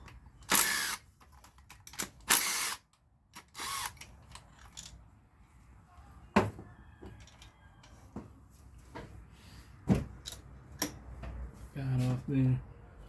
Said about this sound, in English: So I'm gonna get a 18 socket, use my wrench, break this loose.